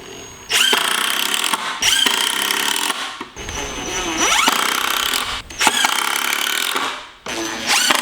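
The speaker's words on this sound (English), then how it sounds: "We can then get our 2 screws and drill it in for each one of these pegs." A power drill drives screws through a 2x6 into wooden pegs for a DIY garage ventilation setup, with several loud bursts of motor whir separated by short pauses, close by.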